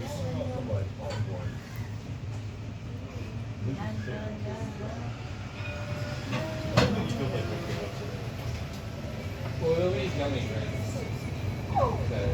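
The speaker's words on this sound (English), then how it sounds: "I've bailed here to have a ride on the Edinburgh Trams." An Edinburgh tram rolls along its rails, giving a steady low rumble with faint clicks and creaks throughout, while voices and announcements sound over it.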